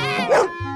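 Cartoon dog in a Baby Looney Tunes episode gives a single short yipping bark, close and clear, with a brief voiced whimper before it.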